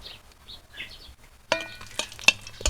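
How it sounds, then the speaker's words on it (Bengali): Two dry red chillies hit hot mustard oil in a kadai as a tempering for dal, after a quiet start a sudden close crackle and sputter breaks out, with sharp pops and a metallic clink. "দিয়ে দেবো দুটো শুকনো লঙ্কা"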